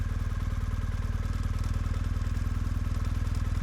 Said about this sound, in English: Start the motorcycle up and roll back and forth using only the clutch.